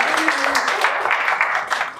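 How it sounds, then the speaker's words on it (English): Audience applause at a talk, a dense steady patter of clapping lasting the whole moment with faint voices mixed in. "This is where you clap now."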